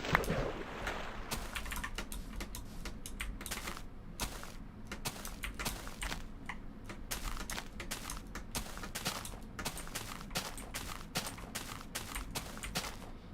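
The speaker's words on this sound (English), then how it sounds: "my keyboard is very loud" A very loud computer keyboard clatters with rapid, uneven key strikes in bursts across the whole stretch, close up and with no talking.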